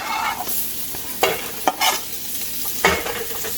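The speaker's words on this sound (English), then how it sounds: "I'm going to add my onion first." Onion sizzling in a hot pan for a spicy chickpea breakfast wrap, with a steady fry hiss and a few sharp scrapes of a utensil stirring, close and clear.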